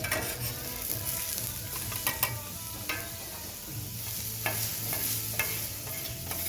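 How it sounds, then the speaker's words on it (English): Onions and mushrooms sizzle steadily on a Tribal Fire Grill while being stirred and turned, with scattered scraping clicks of a utensil over the continuous frying hiss. "let's go ahead and take these onions and kind of turn them over and see what they're looking like"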